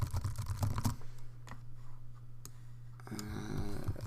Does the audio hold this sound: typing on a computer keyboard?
yes